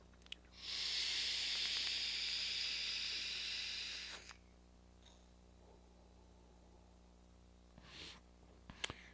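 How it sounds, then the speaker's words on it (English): An e-cigarette vaporizer set to 20 watts with the airflow wide open gives a steady soft hiss of vapor for about three seconds in a quiet room, followed by brief faint exhales. "So let's do a little vaping here."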